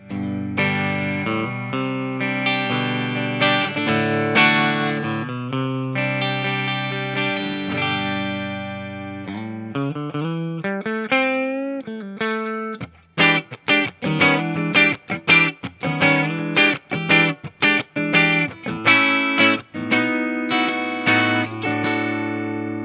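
A Glarry GTL semi-hollow electric guitar played through effects, sustained chords with heavy modulation and drive, then a run of sharp, choppy strummed chords; loud and close, no talking.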